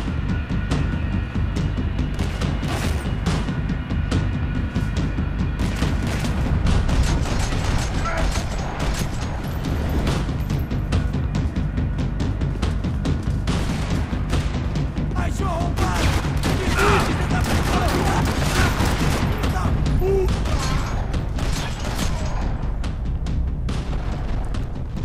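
Sustained gunfire from the video game Max Payne 3 crackles without pause through the whole stretch, dense overlapping shots over a heavy low rumble, loud and busy, with voices talking beneath the combat din.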